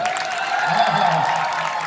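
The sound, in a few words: audience applause and shouting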